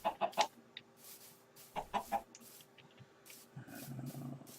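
Chickens in Minecraft's Tekkit modpack cluck in short, quiet bursts, several quick clucks in clusters with pauses between, over a faint steady background hum.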